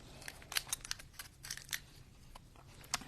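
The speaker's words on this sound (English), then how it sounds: "I'm just going to cut a little snip. Not all the way down. Just partially." Scissors make a short partial cut into the top of a two-layer piece: a scattered series of quick, crisp snips, fairly faint and close, with no talking.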